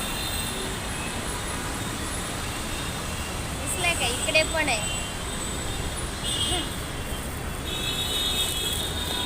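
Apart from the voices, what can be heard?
road traffic moving after the signal, Santa Cruz West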